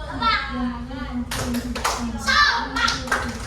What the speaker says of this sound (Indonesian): Sekarang kalian tepuk semangat buat teman-teman kalian.